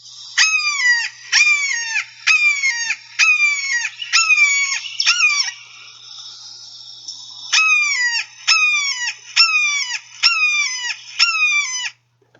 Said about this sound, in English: The last thing to note about the red-shouldered hawk is the vocalization.